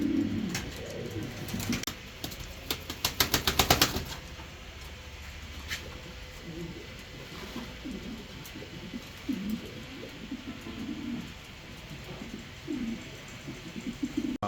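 Andalusian opal bar pigeons coo in soft, low, repeated bursts, with a brief louder flurry of fluttering and clatter early on, then steady cooing against a light background hum.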